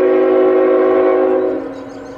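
A mixed freight train passes eastbound through Hyndman, Pennsylvania, its horn blaring loud and close as a sustained chord that fades away toward the end, with no talk.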